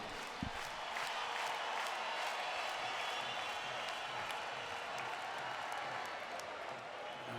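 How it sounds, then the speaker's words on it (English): Packed arena at a Denmark versus Spain men's handball match at EHF EURO 2014, a loud, steady roar of cheering and applause with scattered claps, continuous throughout and mixed with faint commentary. "the crowd cheering on, they're on their feet already"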